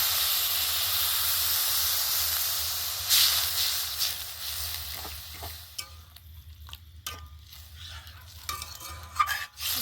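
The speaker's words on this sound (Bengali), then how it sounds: "এবারে নিয়ে নেব পরিমাণ মতো জল।" Water poured into a hot pan of fried spiced mixture for a Bengali tiffin snack, giving a loud, steady hiss and sizzle that fades into crackling bubbles and scattered stirring clinks.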